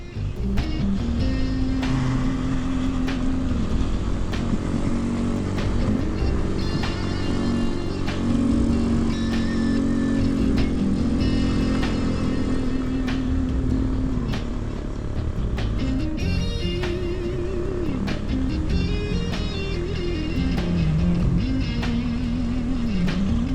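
A Kawasaki Z125 motorcycle rides over snow and dirt, its small engine buzzing loud and close throughout, revs rising and falling with throttle changes.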